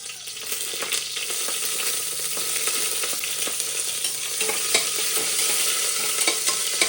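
Chillies drop into hot oil with garlic in a home kitchen pan, a loud steady sizzle with occasional stirring scrapes and pops, continuous and close, with no one speaking.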